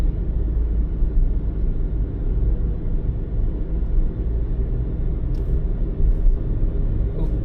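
Rental car driving toward the sea in Japan, heard from inside the cabin: a loud, steady low road-and-engine rumble that continues without a break, with no talk.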